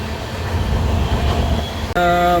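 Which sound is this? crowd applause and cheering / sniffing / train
train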